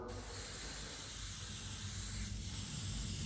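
Spray gun laying white paint for flame artwork, a close, steady high hiss that starts abruptly and runs continuously with a slight dip midway, no voices.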